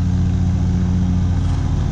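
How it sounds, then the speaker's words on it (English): A steady, droning engine hum from a lawn mower cutting grass on a farm runs continuously in the background, loud and unbroken with no talking. "My father has decided to start cutting grass,"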